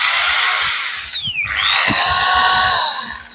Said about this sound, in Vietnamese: Có búa nhá, con này có búa.